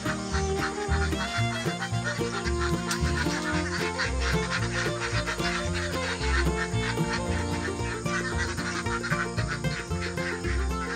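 A flock of native ducks on a backyard farm quacks and honks continuously, loud and close, a dense overlapping chorus with no talking.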